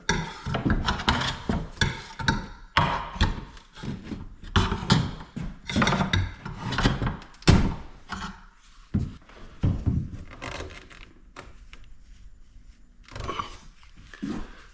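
Repeated scraping, creaking wood sounds in uneven bursts, close by, with louder rasps early on and quieter, drawn-out strains toward the end.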